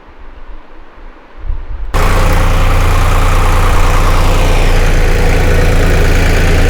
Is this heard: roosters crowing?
no